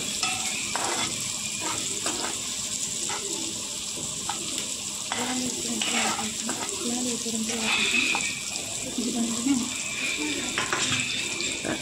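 Dhaba-style paneer bhurji stir-fried in a pan: a steady sizzle runs throughout, with repeated scraping and tapping from stirring at an uneven rhythm, close and fairly loud.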